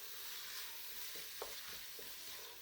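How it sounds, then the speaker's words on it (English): Lentils stirred in a pan over a slow flame, a steady frying sizzle with a few soft scraping strokes, close and alone. "lentils in here. I'm going to give that a stir"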